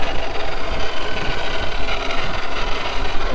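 A 2019 Jeep Grand Cherokee SRT with a Whipple supercharger, big air intake and Borla exhaust runs with a loud, close, steady broadband engine rumble throughout.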